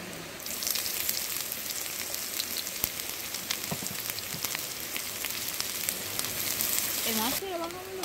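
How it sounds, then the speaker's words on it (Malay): Steady, dense sizzling of fried rice in a hot pan at a campsite, loud and close, with occasional scraping clicks and a brief tonal squeak near the end. "Bunyi tak nasi goreng aku."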